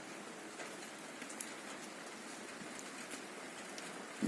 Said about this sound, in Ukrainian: Бачите? Дощ.